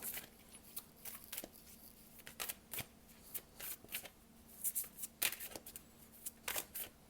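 Tarot cards being shuffled in a quiet room, a run of soft, papery riffles and flicks close to the microphone, with short bursts recurring irregularly and no talking.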